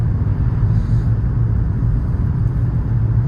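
Inside a moving car carrying newly adopted puppies to a wolf park, a loud, steady low engine and road rumble drones without a break.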